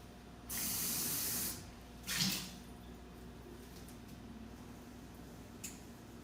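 A measuring cup rinsed under a kitchen tap before baking a pumpkin pie: a brief hissing burst of running water, a second short splash, then only quiet room noise, close by with no talk.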